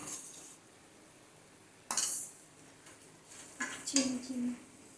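Prawn malai curry with beaten yogurt and cashew paste stirred in a pan; a few quiet scrapes and metallic clinks of the spoon against the pan, with a voice present at times.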